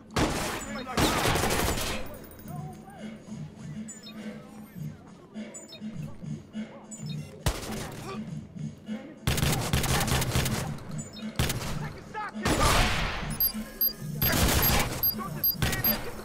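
Shotgun blasts in the video game Watch Dogs, loud broadband bangs fired in irregular bursts and single shots over steady game background, with someone talking between shots.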